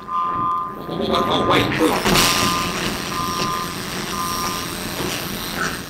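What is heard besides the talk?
garbage truck with reversing beeps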